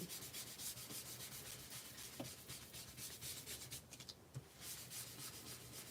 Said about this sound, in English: let's just rub this off. These are painted papers.